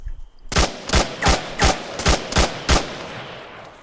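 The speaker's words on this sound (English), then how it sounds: "but if we try to shoot at an angle" Seven evenly spaced single gunshots fired at a wall at an angle in ArmA 3, loud and close, each with a sharp crack and a short decay, over about three seconds with no talk.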